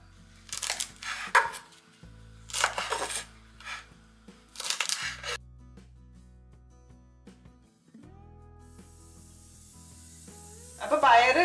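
Knife chopping green beans (payar) into long pieces on a board in a kitchen, with three quick bursts of crisp cutting taps, then quieter clatter and a brief sizzle at the end.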